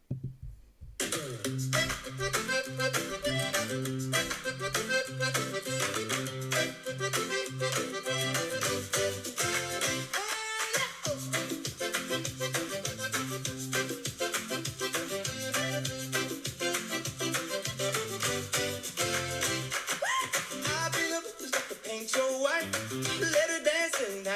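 A lively, bouncy children's song with a steady beat and bright melody plays continuously, at a moderate level, with no talking over it.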